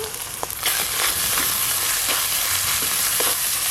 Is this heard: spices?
yes